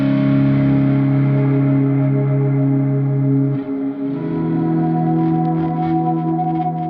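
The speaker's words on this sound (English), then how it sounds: "It's just designed to give you a big pad, big swelling pad" A guitar played through a Walrus Audio R1 stereo reverb pedal makes a big, swelling sustained pad, one thick chord holding and then shifting into another, lush and alone.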